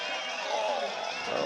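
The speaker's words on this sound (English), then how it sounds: "Yeah, you can hear the crowd in the background." Spectators at the 2025 whitewater world championship finals, a steady wash of crowd noise and cheering under a commentator's voice in a short stretch.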